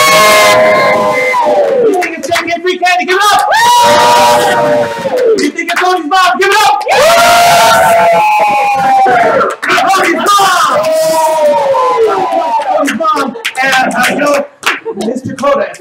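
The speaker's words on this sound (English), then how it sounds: "So here at the Game Show, we're going to cheer for everyone." A game show audience at a live event cheers for a contestant, loud and continuous for the whole stretch, with shouting voices riding on top of the crowd noise.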